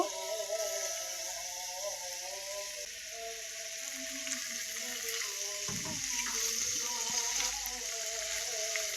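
Drained slices of bitter gourd fry in hot oil, producing a steady, continuous sizzling hiss close by. The sizzle holds at an even level throughout, with a faint low hum beneath.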